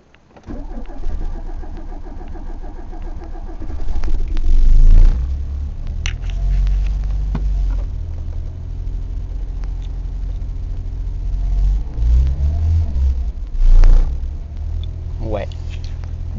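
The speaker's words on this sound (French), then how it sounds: "il faut que je vous dise que ce genre de voiture démarre" An old car engine cranks and fires on the choke, then idles roughly with a couple of revs, close and rumbling, while someone talks over it in French.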